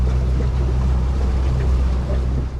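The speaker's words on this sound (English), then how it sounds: "Ooh, waves are picking up." Waves wash steadily around a 2025 Quintrex 450 Fishabout motorboat out on the water, a close, continuous rush of water and low rumble with no talking.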